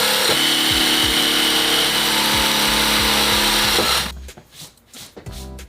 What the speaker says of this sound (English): it is drilling a bunch of holes